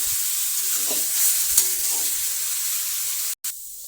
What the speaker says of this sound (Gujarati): આપણે ગાજરને મીડિયમ ગેસ પર શેકીશું